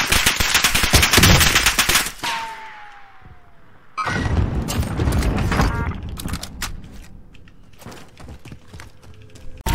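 Automatic gunfire rattles loud and close in a multiplayer shooter, a dense burst at the start, then a pause and renewed rapid fire with scattered shots and blasts continuing to the end.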